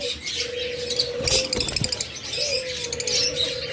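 Lovebirds in a bird shop chirping in busy, overlapping bursts of high tweets, close and lively, with soft cooing and a few rustling clatters beneath.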